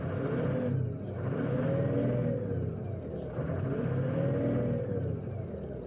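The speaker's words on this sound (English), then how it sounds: "So I'm going to step on the accelerator, but that needle's not going to move very much." A 6.0 diesel truck engine revs steadily as the accelerator is pressed, a loud continuous rumbling drone with rising and falling pitch sweeps repeating through the clip, and no talking over it.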